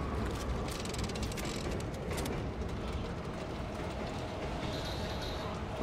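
A train rumbles and rattles steadily in the video game Dead Space 2, a dense continuous mechanical roar with clanking and ratcheting textures throughout.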